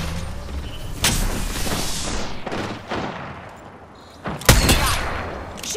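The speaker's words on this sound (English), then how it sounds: "Shooting!" Gunfire in Apex Legends crackles in bursts, with a loud volley near the start, scattered shots through the middle and a sharp, heavy burst near the end, with no voices.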